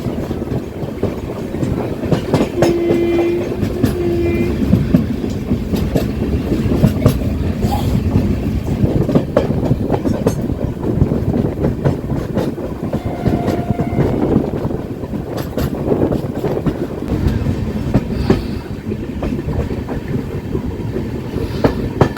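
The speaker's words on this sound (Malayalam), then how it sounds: "ട്രെയിൻ കരൂർ ജംഗ്ഷൻ റെയിൽവേ സ്റ്റേഷനിലേക്ക് എത്തിക്കൊണ്ടിരിക്കുകയാണ്." The Vasco da Gama–Velankanni Express rumbles steadily with rattling, clattering wheels and wind noise, moving along the track as it approaches Karur Junction station.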